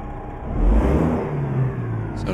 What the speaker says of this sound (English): I always kind of rev the engine just for fun